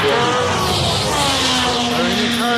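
Race cars at Indianapolis Motor Speedway, a loud continuous engine roar with high whining tones that rise and fall as cars sweep past, filling the whole stretch.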